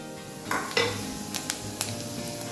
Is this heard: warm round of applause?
no